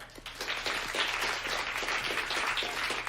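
Applause from a live audience greeting a guest of honour at a formal reception, a steady broad clatter of many hands clapping throughout, moderately loud and continuous.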